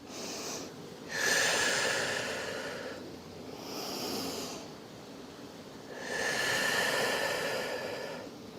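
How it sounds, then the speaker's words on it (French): Slow yoga breathing during a workout in child's pose: long inhales through the nose and exhales through the mouth, three or so drawn-out breaths close to the microphone, alone without talk. "On prend 3 longues respirations avec inspire par le nez, expire par la bouche."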